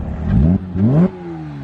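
A Porsche 987 Boxster S engine revs twice in quick succession, rising in pitch each time, then settles back to a low idle.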